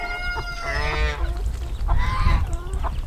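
Farm ducks and geese in a flock honk and quack loudly nearby, with repeated overlapping calls in short bursts over outdoor background noise.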